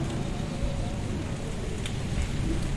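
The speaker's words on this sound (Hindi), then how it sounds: "हल्की हल्की ना, अभी बरसात शुरू हुई है।" Light rain beginning to fall outdoors during an early spring storm, a steady close hiss of drops spread evenly throughout, with no distinct thunder clap standing out.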